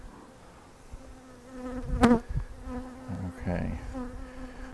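Honeybees buzz around double brood chamber hives in an outdoor bee yard, a steady, fairly soft drone with a brief spoken word partway through.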